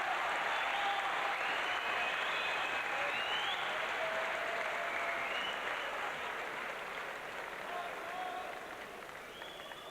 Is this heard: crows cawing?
no